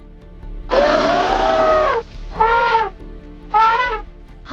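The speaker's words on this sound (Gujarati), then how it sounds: "આ હાથી છે." An elephant calls in three separate trumpeting blasts, the first long and loud and the next two shorter, each with a brassy, harmonic tone and clear breaks of quiet between them.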